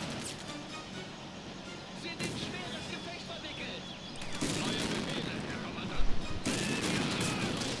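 Dense battlefield gunfire from the World War II strategy game Blitzkrieg 2 with German forces, a continuous crackle of rifle and machine-gun fire that swells louder after a few seconds, with a sharper burst near the end and a voice talking over it.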